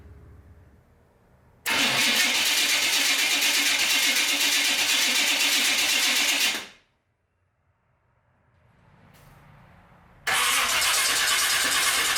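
A car engine cranks over on a Summit Racing high-torque mini-starter, catches and runs loud for several seconds, cuts off abruptly, then after a short quiet gap is started again and revs up strongly.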